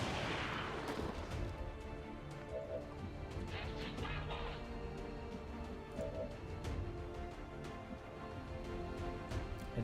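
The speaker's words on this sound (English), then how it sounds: "I think putting a rocket here just to keep things moving is pretty sensible" A rocket launches and explodes in the strategy game Long War 2, a loud rumbling blast at the start that decays into a long rolling boom with scattered crackling debris, heavy and close, with no speech over it.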